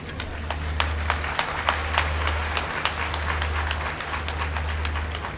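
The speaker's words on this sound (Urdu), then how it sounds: "ویسے اس میں زیادہ تالیاں لڑکوں کو بجانی چاہیے" Children in an audience applaud at an event announcing student scholarships, a dense, lively clatter of many hands that holds steady for several seconds. A low rumble runs beneath the clapping.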